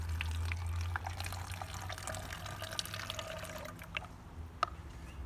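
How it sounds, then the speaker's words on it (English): Water, about 100 milliliters, is poured into a plastic soda bottle in a classroom, a steady low splashing and trickling fill lasting several seconds with a few faint drips near the end. "we're going to take 100 milliliters of water and we're going to dump it into our soda bottle."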